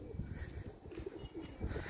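Iranian pigeons coo softly in a loft, low and murmuring, faint against a steady background hum.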